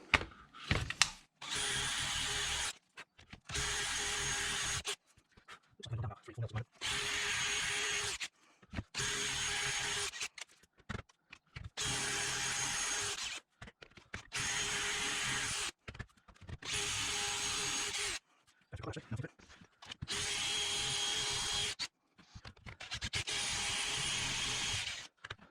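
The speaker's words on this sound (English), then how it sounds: "Yeah, this is going to take some drilling." A power drill cuts through a solid oak bench top for an old Workmate-style portable workbench in repeated loud bursts of a few seconds each, separated by short pauses and handling noises.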